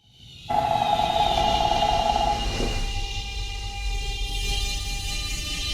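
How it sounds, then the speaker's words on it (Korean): A sustained high warning tone sounds for about two seconds as the doors close, then a steady rumbling hum of a light rail train pulling away, fairly loud. "The train will soon depart. The doors are closing."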